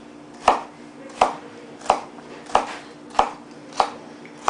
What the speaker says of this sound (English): cut the celery for thickness.